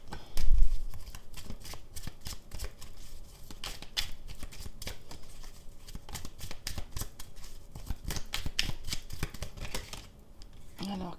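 Tarot cards being shuffled by hand, a steady run of dry papery flicks and riffles close up, with a louder thump near the start.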